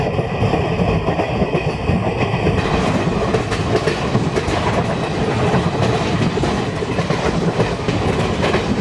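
Chennai–Nizamuddin Rajdhani Express rolling along the tracks near Chennai Central, with a loud, continuous rumble and a clear, regular clickety-clack of wheels over rail joints from start to finish.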